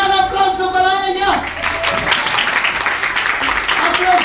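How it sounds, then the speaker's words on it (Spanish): Audience applause for a female contestant at a magician's contest show, breaking out as broad, steady clapping after a brief loud voice at the start and continuing to the end. "¡Aplauso para ella!"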